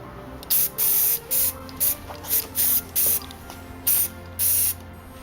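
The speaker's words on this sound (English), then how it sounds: "so I'm just going to spray them on the outside as well" An aerosol can of spray paint is sprayed onto the outside of glassware in about nine short, sharp hissing bursts, each under a second long with brief gaps between them, close and loud over a quiet background.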